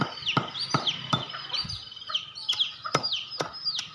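Repeated high-pitched piping calls from guinea fowl chicks, several in quick succession, with sharp clicks or taps mixed in nearby.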